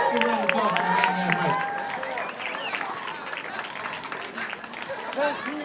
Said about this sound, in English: Let's give a round of applause for the man